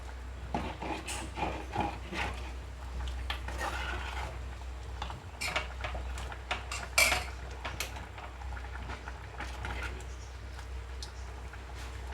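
A spoon stirs tomato and drumstick curry in a pot after salt goes in, producing repeated metallic scrapes and clinks against the vessel over a low steady hum.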